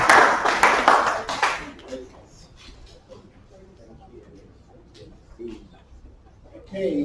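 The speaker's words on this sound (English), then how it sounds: "So please, can we give a round of applause?" Brief burst of applause for professors at a health research mentorship session, clapping loud for about two seconds then fading, followed by quiet room noise and a voice speaking.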